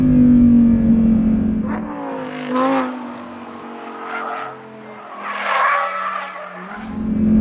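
Lamborghini Huracán Performante with a naturally aspirated V10 and twin-clutch gearbox, driven hard on a track: a loud, close engine note rising and falling through revs and shifts, with screeching tyres in between and no talk.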